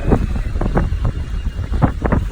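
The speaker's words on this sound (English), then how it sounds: "Now, you can get a little windy back here" Gusty wind buffets the microphone in rumbling, uneven bursts, loud and close throughout.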